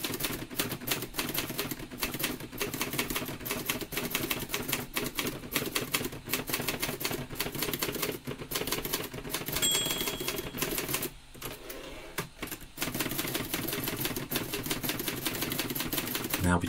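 A letter is typed on a typewriter: a rapid, continuous clatter of keystrokes that pauses briefly, then resumes at close range.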